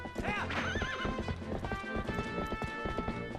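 Banjo the horse from Shadow of the Colossus gallops with quick, close clip-clop hoofbeats while a loud neigh rises near the start, the hooves carrying on steadily afterward.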